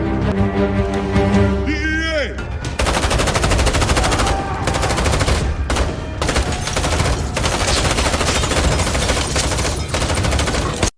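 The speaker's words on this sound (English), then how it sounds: "a fierce gunfight erupts between the criminals and the SWAT unit" A fierce movie gunfight between a SWAT team and criminals fills the scene with sustained automatic gunfire and loud overlapping shots, after a brief opening of tones and a rising whine, with only short pauses between bursts.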